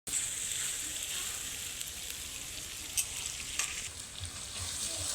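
Onion, ginger and garlic frying together in a pan for a fish-head dish: a soft, steady sizzle with a few brief stirring clinks, close but fairly quiet, no talking.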